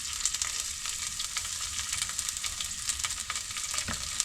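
Ginger frying in a pan, a close, steady sizzle with crackling pops and faint stirring, no voices.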